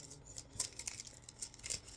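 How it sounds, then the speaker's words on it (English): Close, crisp riffle-shuffling of a 61-card Dragon Ball Super card game deck, with several quick papery bursts and snaps repeating in an uneven rhythm and no talk. "you want to shuffle your deck as best you can."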